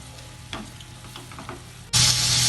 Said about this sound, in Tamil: இப்போ நல்லா வதக்கிக்குவோம்.